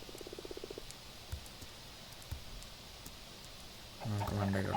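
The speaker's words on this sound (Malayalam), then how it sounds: "തവളയായിരുന്നു ഗൈസ് ഇതിനകത്ത് ഇട്ടത്." A frog in Minecraft croaks in a short rapid burst at the start, then quiet game ambience follows with faint clicks before another croaking sound rises at the end.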